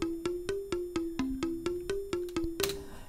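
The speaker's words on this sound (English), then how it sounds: "I add a Balinese instrument. It's called rindik. This rindik is made from bamboo," Rindik, a Balinese bamboo instrument sampled in FL Studio, plays about eleven evenly spaced, woody mallet notes at a steady quick pulse, mostly on one pitch with a brief dip, ending in a louder wash.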